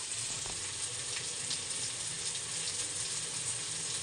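Onions frying in oil in a kitchen pan give a faint, even, continuous sizzle with no break or talk.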